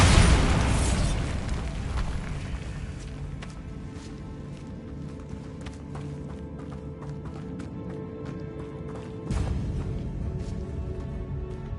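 A Bombarda blast spell in the Hogwarts Legacy game sets off a loud explosion at the start that rumbles and fades into crackling debris and game ambience, with a second, smaller burst near the end.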